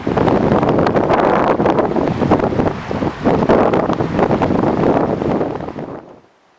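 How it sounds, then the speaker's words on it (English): Strong wind gusts buffet the microphone at a mountain lake campsite in the Ritter Range, a loud steady roar of rushing air with no voices, easing off and dropping away at the very end. "there was quite a bit of wind when we first arrived that evening"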